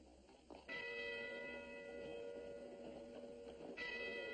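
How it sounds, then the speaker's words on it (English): Church bells ring the Angelus with sustained, overlapping tones, a fresh strike swelling near the start and again toward the end, moderately distant. "Church bells? This ain't Sunday. It's the Angelus."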